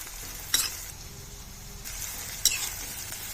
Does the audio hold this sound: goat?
no